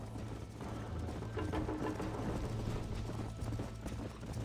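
Horse hooves clip-clop at a steady galloping rhythm in the Red Dead Redemption video game, close and continuous with a faint low hum beneath.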